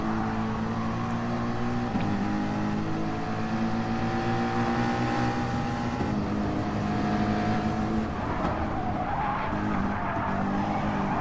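Gran Turismo Sport Gr3 league race on the St-Croix B circuit, final lap: several race car engines drone and rise in pitch continuously with brief tire squeal, loud and steady throughout with no talk.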